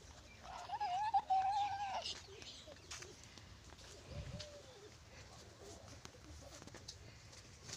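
Pigeons coo faintly in a farm setting, a few soft, rolling calls early on, followed by quieter low rustles and scattered knocks against a hushed outdoor background.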